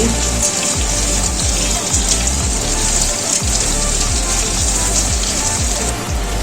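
Fish pieces for chili fish frying in hot oil give off a loud, dense, steady sizzle like heavy rain. Soft low thumps pulse beneath it throughout, with no talking.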